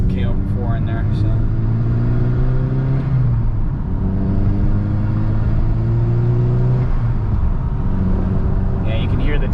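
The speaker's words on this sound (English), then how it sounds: "you can hear the turbo a lot better. Makes more of that you know, intake whoosh noise" VW MK6 GTI fitted with an HPA K04 turbo, its engine droning steadily with rising and falling revs and an airy intake whoosh over the rumble, recorded close up and continuous throughout.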